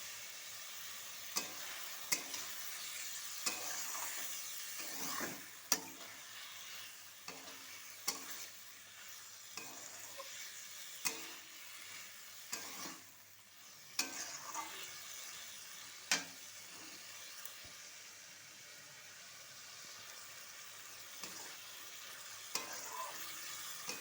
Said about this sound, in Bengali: এবার এটা ভালো করে কষাতে থাকবো। সামান্য পরিমাণে জল দিয়ে কষাবো।